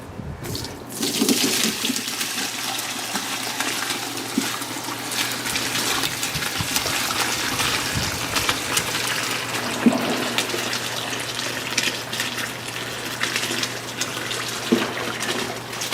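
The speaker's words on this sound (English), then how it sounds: "now I'm straining it through a fine mesh strainer" Homemade chicken bone broth pours steadily through a fine mesh strainer over an ice bath, a continuous close splashing trickle of liquid lasting about fifteen seconds with no talking.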